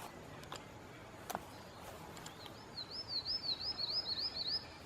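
A bird at Tikal, Guatemala sings a repetitive song, a run of about eight rising, looping whistled phrases in steady rhythm, fairly near and clear above a quiet forest background with a few faint earlier calls.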